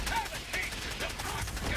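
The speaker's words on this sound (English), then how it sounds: "Hey, stop shooting at me, bro." Rapid gunfire in the Helldivers 2 video game, a dense, steady stream of quick shots heard fairly far back under a noisy battle scene, with no speech in it.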